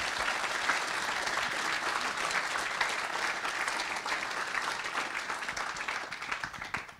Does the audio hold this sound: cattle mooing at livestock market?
no